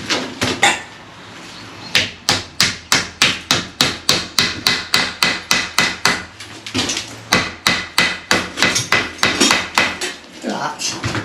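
Steady, loud claw hammer blows striking wood during renovation work in a regular rhythm, dozens of sharp knocks in quick succession with a brief pause partway through.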